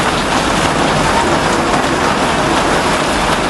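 Rain falling in a city, a loud, steady broadband hiss of drops pattering on surfaces with no breaks, close and enveloping throughout.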